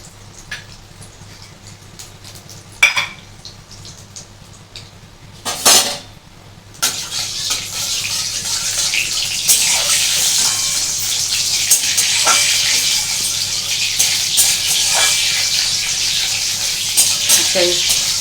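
Black cumin seeds sizzle in hot oil in a pan, a steady bright hiss that builds and holds through the second half. It follows a few sharp clinks of utensils and dishes, with faint talk in the background.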